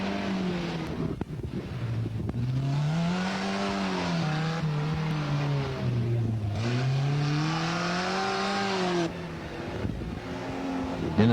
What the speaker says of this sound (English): John O'Leary down in a car that we very seldom see in rallying, a Fiat 128.